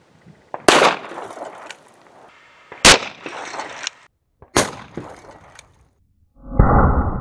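A .357 Maximum Ruger Blackhawk revolver fires three loud, sharp shots a couple of seconds apart, each followed by a ringing decay, ending with a rushing burst of noise.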